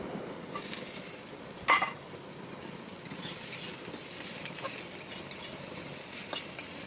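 Vegetable stalks from khanman leaves fry in a pan with a faint, steady sizzle, broken by a single clink of stirring near the start, and no one speaks.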